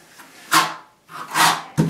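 A 1/4 by 1/4 by 1/4 notch trowel spreads waterproofing material across a tiled steam shower floor, giving three close, scraping rasps in a steady stroke rhythm with short pauses between.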